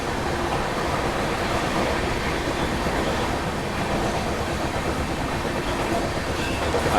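Train track noise from onboard the Kashi Vishwanath Express, rushing at speed through Sahibabad station between Delhi and Lucknow: a dense, loud, continuous roar of wheels and rail clatter with no voices.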